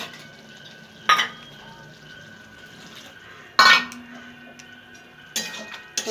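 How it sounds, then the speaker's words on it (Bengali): Poppy seed paste is stirred in a pan, heard as three brief, loud scraping bursts spaced a couple of seconds apart against a quiet background hum. "একটু ভালো করে নাড়িয়ে দিয়ে একটুখানি জল দেবো।"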